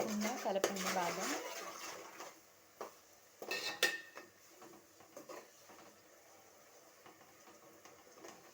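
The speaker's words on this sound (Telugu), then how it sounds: "దీనిని ఆయిల్లో వేసాము. అడుగు అంటకుండా కలపండి బాగా." Fish curry paste stirred in hot oil in a pan, with a loud metallic clatter at the start, then scattered utensil knocks and scrapes fading to quiet; speech is faintly present.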